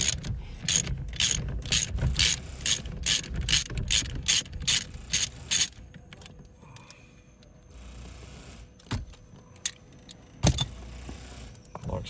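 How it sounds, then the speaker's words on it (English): Rapid clicking of a ratchet with an 8mm Allen key bit loosening the steering wheel bolt on a 2007 Saab 9-3, a fast run of close, crisp clicks followed by a few slower scattered clicks and light metallic handling. "All we're going to do is loosen that bolt."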